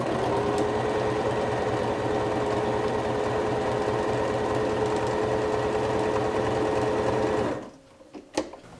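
A sewing machine stitching the hem of a fabric mask runs in a fast, steady mechanical whir for about seven seconds, close and alone, then stops abruptly, leaving a few quiet handling clicks.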